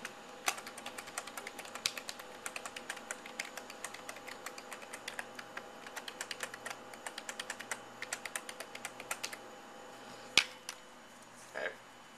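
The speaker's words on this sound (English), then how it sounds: "So let me re-enter my password." Close, quiet typing on a computer keyboard while entering a password before using a YubiKey, a steady run of light key clicks with a few louder taps near the end and no talking.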